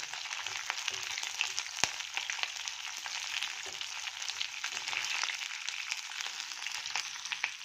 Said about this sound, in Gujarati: તેલને આપણે ગરમ થવા દેશું આપણું તેલ ગરમ થઈ ગયું છે એમાં નાખીશું આપણે મરચાં મરચાંને આપણે થોડીક એવી ફ્રાય કરી લઈએ